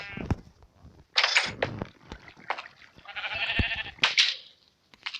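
Several bleating sheep in Minecraft, nasal and wavering, come in short calls one after another, close and fairly loud, mixed with small clicks and rustles.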